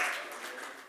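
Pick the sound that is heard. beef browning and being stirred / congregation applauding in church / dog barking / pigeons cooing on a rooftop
congregation applauding in church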